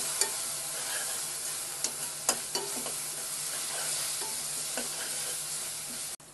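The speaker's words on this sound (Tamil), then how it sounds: "இஞ்சி பூண்டு நல்லா பச்சை வடை போகிற வரைக்கும் நல்லா வதக்கிக்கலாம் இதை." Ginger and garlic frying with onions for an Andhra-style mutton liver gravy, a constant loud sizzle beneath a few sharp spatula taps and scrapes against the pan, close up.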